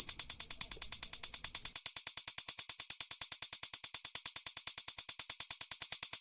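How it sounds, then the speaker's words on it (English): A fast, steady hi-hat pattern made in FL Studio ticks on its own in an even, rapid stream of bright, crisp hits at moderate loudness, with no other instruments. "Then I laid on this 1-step hi-hat pattern."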